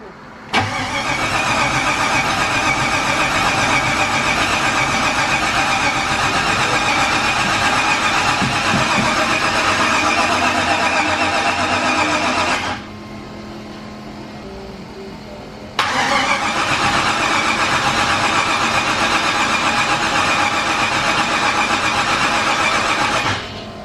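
A turbo LS-swapped 1986 Chevrolet C30 dually engine cranks and catches, then runs loud and steady close by. It drops to a quieter, lower idle for a few seconds before the full roar resumes.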